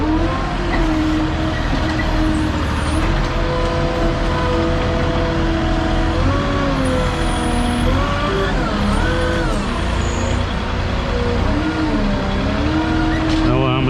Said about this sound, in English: I'm gonna pick up my stabilizers, then I'm gonna back it up